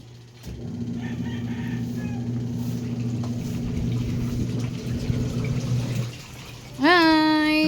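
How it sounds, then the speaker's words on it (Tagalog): Washing machine drum turning during a laundry load, with a steady low motor hum that stops near the end, followed by a loud rooster crow. "Umiikot na ang pasaway na washing."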